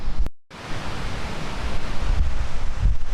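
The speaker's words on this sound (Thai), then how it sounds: "เราก็มาถึงแล้วนะครับ น้ำตกตาดแช่นะครับ" Tad Sae waterfall near Luang Prabang, Laos, pours as a steady, loud, broadband rush of water that fills the scene after a brief dropout, with no voices.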